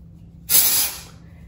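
A single sharp hiss of hair spray from an aerosol can, lasting about half a second, close by against a quiet background.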